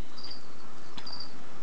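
Crickets kept as feeder insects for a leopard gecko chirp in two short, bright bursts, close and fairly clear over a quiet background.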